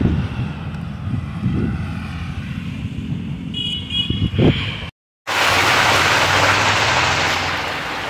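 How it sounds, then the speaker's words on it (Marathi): A steady, even hiss of light, continuous drizzle fills the second half, after a brief silence; before that, a low engine-like drone and rumble. "पावसाला सुरुवात झाली। हाय रिमझिमच आहे, पण कंटिन्यू पाऊस लागला।"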